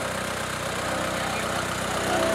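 A Kubota V3008 diesel engine, rated 105, runs on a Ngoc Phuong tiller with a steady, even drone and low rumble throughout, with no talk over it.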